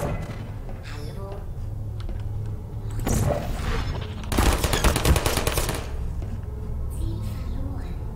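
Automated turrets in the video game Portal firing rapid bursts of gunfire, including one sustained rattling volley, amid mechanical clunks and with a voice talking throughout.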